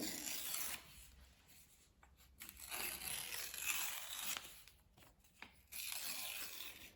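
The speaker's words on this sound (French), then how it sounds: "on déchire les bouts" Paper being torn close by in several quick, rasping rips separated by short pauses.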